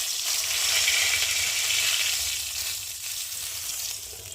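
Fish head frying in hot oil in a wok, a steady, dense sizzle that holds near and loud throughout, easing slightly toward the end with no talking.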